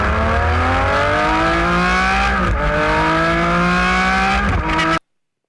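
An early superbike engine revs hard and close, climbing through rising pitch sweeps with two brief breaks between pulls like gear changes, loud and without talking, then cutting off abruptly.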